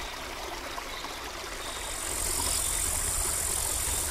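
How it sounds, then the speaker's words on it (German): Leimbach, a small natural stream flowing past the village of Balzfeld, babbles with a steady broadband rush, growing a little louder and brighter halfway through, with a low engine-like rumble underneath and no voices. "So idyllisch er auch daher plätschert"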